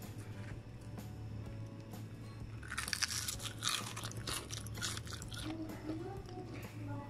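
Crispy fried eggplant crunches loudly for a couple of seconds midway as someone bites into it, with quieter chewing afterward and talk in the background.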